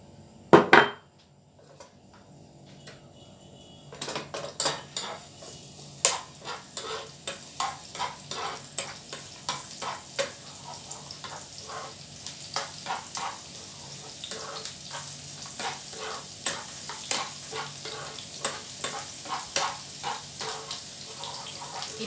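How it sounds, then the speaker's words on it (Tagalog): Chicken breast sautéing with four cloves of garlic in a hot pan: a steady, bright sizzle and crackle builds and holds, punctuated by sharp clicks and scrapes of a utensil stirring against the pan. "Gigisa lang natin ang breast chicken sa garlic."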